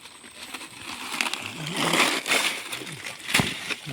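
Water sloshing inside a hollow stone treasure marker, heard as a few close, splashy bursts of uneven sloshing over a rough background with faint voices nearby.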